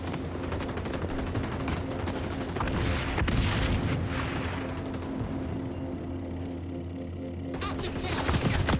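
Dense gunfire and a heavy frag grenade blast fill a firefight in the XDefiant shooter game, with rapid bursts, booms and crackle layered together at loud, close range throughout.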